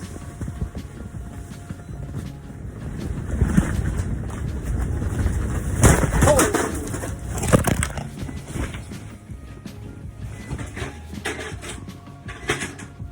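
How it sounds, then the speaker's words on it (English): A strong gust of wind hits a pegged-down ice fishing tent, the fabric shuddering and crackling in several loud surges that build and fade over a steady background rush. "That was a crazy gust of wind just now."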